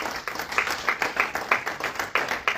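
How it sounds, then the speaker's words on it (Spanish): A church congregation claps hands together in a steady, brisk rhythm, a dense group clapping in unison at a fairly loud level with no talking over it. "Denle palmas fuertes a Cristo"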